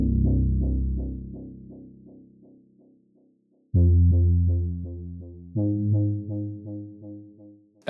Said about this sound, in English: the other layer to this sound is a deeper bass layer that sounds like this by itself